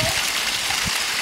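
Rushing water from a waterfall in a wooded river spot fills the scene with a steady, loud broadband roar, uninterrupted throughout and without voices over it.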